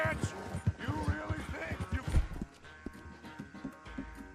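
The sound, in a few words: horse galloping in video game Red Dead Redemption 2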